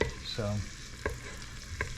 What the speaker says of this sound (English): you want to saute this